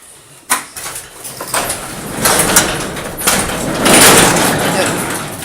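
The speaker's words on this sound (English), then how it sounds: "I gotta open that garage door." A garage door at a cluttered home workshop is hauled open, starting with a sharp mechanical clunk and followed by rumbling, rattling sliding noise that builds and swells near the end.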